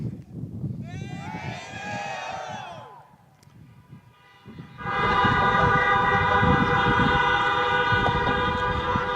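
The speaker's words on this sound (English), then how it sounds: "parents, honk your horns to say you're welcome" Crowd cheering and yelling at an outdoor graduation in a student parking lot give way to a loud, sustained chorus of parents' car horns honking together, blaring continuously over the noisy crowd.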